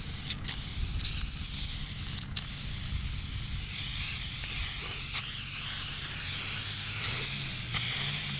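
Super Clean degreaser sprayed under the engine of an MK3 Toyota Supra, a long close, loud hissing spray with a few brief bursts early on, then a steady continuous stream, no talk.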